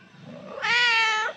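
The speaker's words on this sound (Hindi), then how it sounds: "अभी सिर्फ म्याऊं कर रहे हैं" A cat gives one clear, loud meow that rises and holds for about half a second, close by, after a quieter stretch of low background noise, with no talking.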